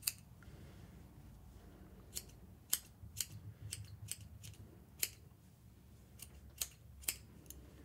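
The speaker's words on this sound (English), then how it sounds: "So we're just going to shape it with our scissors. Just trim little bits off," Sharp scissor snips, about a dozen, come at irregular intervals close by, each a crisp metallic click over a quiet room, trimming a yarn pom-pom.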